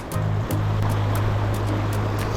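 The Big Thompson River in Colorado rushes past, a loud, continuous wash of flowing water close by with no break.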